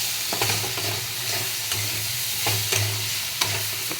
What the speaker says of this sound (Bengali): লঙ্কা গুঁড়ো আর হলুদ গুঁড়ো দেওয়া হয়েছে এটাকেও ভালো করে মিশিয়ে নেওয়া হবে।